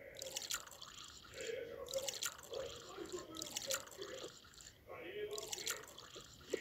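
Hot tea with milk is poured quietly into several cups in a few separate, short liquid streams with small drips and splashes between them. A faint voice murmurs in the background.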